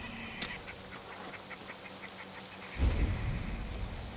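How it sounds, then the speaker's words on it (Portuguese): A chicken clucks in Assassin's Creed Valhalla, with faint, evenly spaced short calls over a low background, then a louder rumbling wash of game noise takes over near the end. "Olha o que, uma galinha?"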